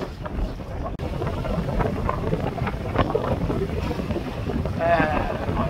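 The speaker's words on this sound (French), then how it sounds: "là il y a du bon vent" Wind roaring past the microphone aboard a sailboat crossing toward Prince Edward Island in a fresh breeze, a steady loud rushing that continues throughout, with water noise beneath it.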